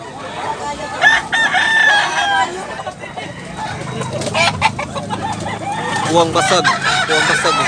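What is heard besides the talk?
bullstag gamecock rooster crowing and clucking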